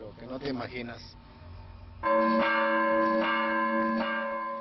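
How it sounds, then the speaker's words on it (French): A woman rings a village church bell by hand, and strong, ringing tones with long sustain sound out close and loud. Before the bell begins, a person speaks briefly. "C'est une femme qui sonne la cloche du village."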